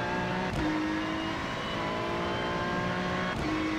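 A race car engine lapping Mugello in the iRacing sim holds a steady, loud high-pitched drone, with brief shift blips near the start and end and no talk.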